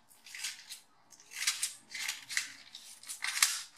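Scissors cut through wax print cotton fabric, a series of crisp swishing snips in short bursts with brief pauses between, close and clear.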